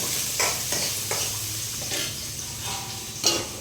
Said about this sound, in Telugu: ఇక్కడైతే ఉల్లిపాయలు ఫ్రై అవుతున్నాయి ఇంకా ఫ్రై అవ్వాలి